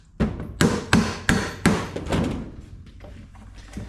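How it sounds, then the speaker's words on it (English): Five or six sharp metallic strikes of a hammer on a bolt land in a steady rhythm, close and loud, each ringing briefly before the next blow, then fading into quiet, on a dairy farm. "If in doubt, hammer it out."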